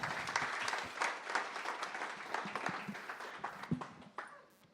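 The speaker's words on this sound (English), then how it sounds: "Round of applause for Hypernym." Audience applause at a San Francisco AI demo night, a dense wash of clapping from a crowd that holds steady and then tapers off toward the end.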